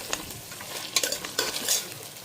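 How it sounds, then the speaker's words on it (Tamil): Chicken with lemon and spices is sautéed in a pan, a soft sizzle under repeated scraping strokes of a spoon against the metal, a few sharp and close. "ஸோ சேர்த்துட்டு நல்லா வதக்கி விடலாம்."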